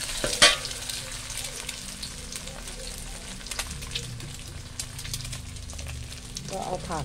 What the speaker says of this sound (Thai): ออกไข่ลงไปใบเดียวพอเพราะอุ้นเส้นนิดเดียว